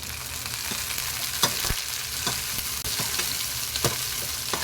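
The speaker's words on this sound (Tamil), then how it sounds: "இப்போ எல்லாத்தையும் நல்லா வதக்கலாங்க." Onions and tomato sauté in a hot pan, making a continuous close sizzle broken by several sharp scrapes and clicks as a spoon stirs them.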